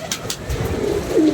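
Pigeons coo close by, with soft low throaty coos rolling into a rising call near the end, clear over quiet surroundings.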